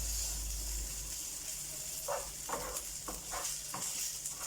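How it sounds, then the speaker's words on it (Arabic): Food stirred and fried in olive oil in a pan until the oil dries, with a steady close sizzle and a series of short spoon scrapes in an irregular rhythm. "غادي نستمروا بالتحرك حتى ينشف تماما من هاد الزيت كامله"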